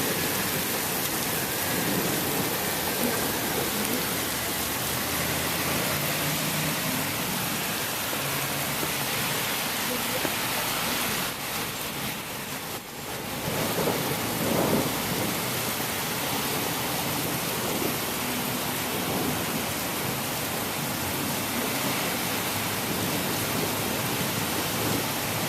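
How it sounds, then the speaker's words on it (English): Heavy rain pours steadily during a severe thunderstorm in Chicago, a loud, continuous broadband hiss that dips briefly midway and then resumes, with no audible thunder. "the rain's calming down"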